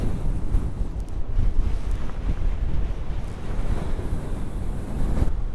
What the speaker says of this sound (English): the wind is really pushing hard south